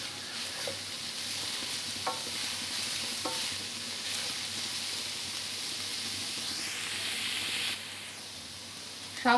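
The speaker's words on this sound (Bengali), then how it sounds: "সব সবজিগুলোকে 1 মিনিট মতো নাড়াচাড়া করে নিয়ে" Vegetables and soybean chunks with slit green chilies sizzle steadily in a pan for veg chowmein, with a continuous frying hiss broken by a few scraping stirs of a spatula, and no talking.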